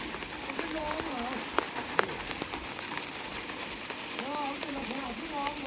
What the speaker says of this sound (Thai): ตรงนี้ก็ฝนตกแน่มันก็